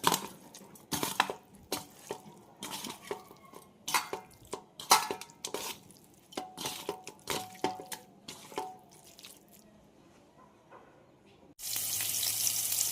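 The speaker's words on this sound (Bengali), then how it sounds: "ম্যারিনেট করা চিকেন গরম তেলে এক এক করে দিয়ে দিলাম।" Marinated chicken pieces sizzling and spattering in hot oil, loud and close, with crackling bursts, then a steady louder hiss near the end; no talking.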